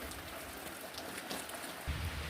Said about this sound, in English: beautiful raindrops